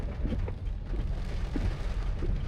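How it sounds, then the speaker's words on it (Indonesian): Steady rain hisses and patters around a car on a road trip toward Dieng near Wonosobo, a dense, even wash of drops with a low rumble beneath and no voices. "Akhirnya hujan."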